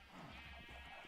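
Sheep bleat on a Minecraft sheep farm, a brief, faint, wavering bleat set against a steady noisy background with no talking.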